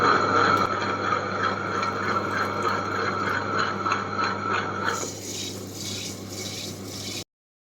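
A wet grinder grinds rice into idli batter, giving a steady mechanical hum and churning with a faint repeating pulse. It runs alone for about seven seconds, then the grinding noise drops lower just before it cuts off.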